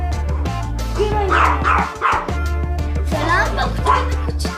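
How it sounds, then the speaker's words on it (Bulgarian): A pet dog indoors gives several close, loud barks and yips in quick clusters, with a whimper in between, all over a steady low droning hum in the background. "И ако чуете кучето ми да лае"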